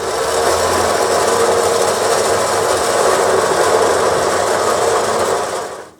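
A winch pulls cable onto its drum while hauling a deadfall tree off a trail, giving a steady, loud mechanical drone and whir that holds for about five seconds and then cuts out.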